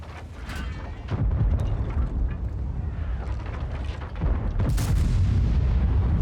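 World of Tanks tank cannon fire from a BZ-75 battle: heavy booming shots land around the one- and five-second marks, each followed by rumbling decay over continuous low battlefield noise.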